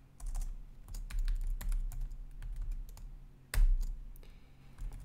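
Java code is typed on a computer keyboard with close, crisp key clicks in irregular bursts, with a few louder strikes and short pauses between runs.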